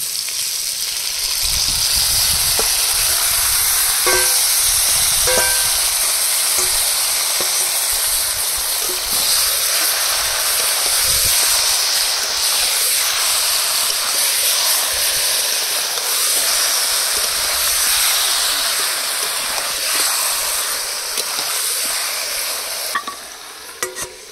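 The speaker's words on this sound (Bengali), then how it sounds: "আলুগুলো ভেজে নিচ্ছি।" Potatoes fry in a pan for a village-style home meal, a continuous close sizzle and hiss with a spatula stirring and scraping in scattered clicks throughout.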